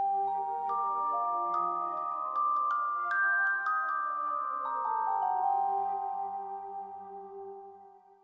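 Twinkly, bell-like mallet tones play a gentle flowing melody over a sustained warm pad, with soft tinkling highlights, steady and alone.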